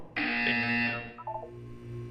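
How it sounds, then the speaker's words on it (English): A Portal 2 game buzzer sounds once, a loud, sustained electronic tone lasting about a second, followed by a short lower tonal blip and a quieter fading hum. "When you hear the buzzer, look down at the floor."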